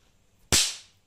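A small children's firecracker bursts once at Dhanteras with a single sharp crack, close and loud, its noisy tail fading over about half a second after near silence.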